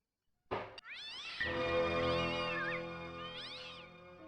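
A cat meows in the Broken Sword video game: one long, close, drawn-out wailing meow, rising and falling in pitch, that follows a few brief clicks.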